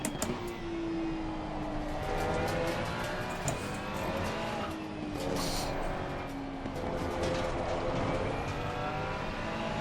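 Race car engine accelerating in Assetto Corsa Competizione, a GT World Challenge car: a steady, continuous engine drone with rising gear-pitch sweeps, close and loud, running alone throughout.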